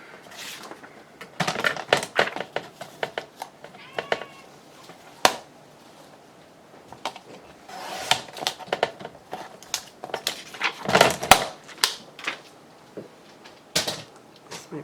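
Paper being cut for a handmade Valentine booklet, a series of crisp close snips and rustles in irregular bursts with quiet pauses between.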